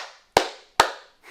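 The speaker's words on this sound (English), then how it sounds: "If you can hear me, clap 3 times." A conference audience claps in unison, two sharp, loud collective claps about half a second apart with room echo, and a third starting at the very end.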